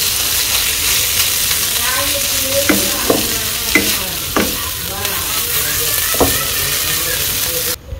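Banana stem (thor) fries in a pan with a loud, constant sizzle. A spatula cuts through it with several distinct scraping strokes a second or so apart.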